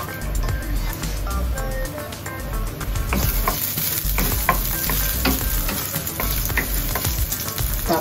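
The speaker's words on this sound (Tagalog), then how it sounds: "Lagyan na natin ng mantika. Ayan guys, mainit na siya. Lalagyan na natin yung bawang." Garlic dropped into hot oil gives a loud, dense crackling sizzle that swells partway through and keeps up steadily, close by, while a spoon scrapes faintly against the pan.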